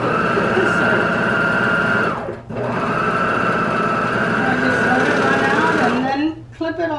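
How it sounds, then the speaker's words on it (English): An overlock serger runs steadily while serging cut garment fabric, a loud continuous mechanical whir that dips briefly in the middle, then resumes before slowing and stopping near the end. "it's much easier to serge after you have cut the garment"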